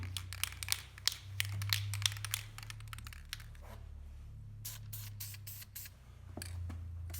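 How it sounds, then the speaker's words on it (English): An aerosol rattle can sprays paint onto a small quarter panel spot on a Chevy Impala, a run of short hissing bursts with brief pauses, close and crisp over a low engine-like hum. "Rattle can. Should be good enough for this little spot, no big deal."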